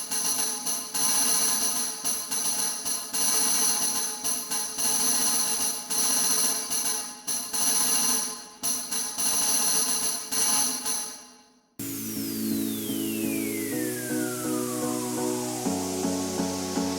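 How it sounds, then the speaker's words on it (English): An orchestral tambourine shakes and jingles in a steady, dense shimmer for about twelve seconds, then stops and a different pitched instrument takes over. "The correct answer is C, the tambourine."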